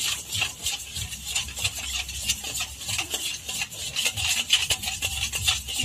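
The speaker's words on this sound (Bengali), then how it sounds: "এভাবে ভালো করে গুলিয়ে নিতে হবে, কারণ চিনিটা বড় দানা তো বলতে একটু সময় লাগবে।" A spoon scraping and clinking against a bowl while stirring white oil with coarse-grained sugar for homemade soft bread, a rapid continuous gritty rasp, close and steady.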